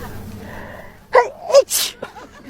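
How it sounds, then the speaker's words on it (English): A bride at a wedding ceremony gives one close, sharp sneeze after a quick breathy intake, over quiet background murmur. "Oh no, I think I'm about to sneeze."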